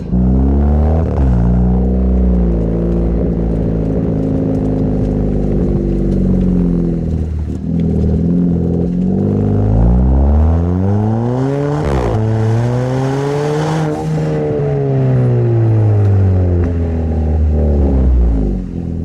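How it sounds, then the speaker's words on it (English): A Hyundai Veloster with an aftermarket exhaust revs hard, loud and close, with repeated rising and falling throttle blips and sustained high-rpm pulls, alone without talk. "All right, let's test this exhaust."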